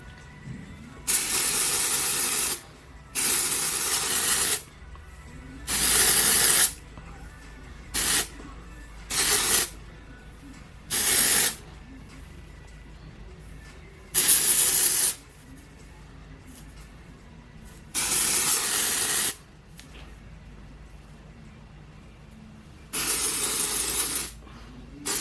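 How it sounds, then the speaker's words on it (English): A can of dry shampoo sprayed in repeated bursts, about ten loud hissing blasts of one to two seconds each, separated by short quiet pauses and irregularly spaced. "dry shampoo"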